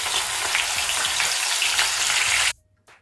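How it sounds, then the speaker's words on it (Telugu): Chopped green chillies frying in hot oil in a home kitchen, a dense crackling sizzle that cuts off abruptly, followed by a short faint clatter. "ఇప్పుడు పచ్చిమిర్చి కూడా వేగాయి కదా"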